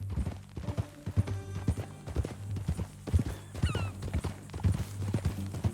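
Horse hooves clip-clop steadily in Red Dead Redemption 2, rhythmic close thuds over a low hum, with a brief whinny-like squeal midway and no clear talk.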